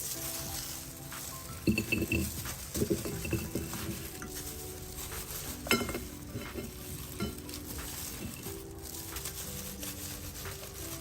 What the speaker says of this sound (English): fried with its own oil, pork oil from the meat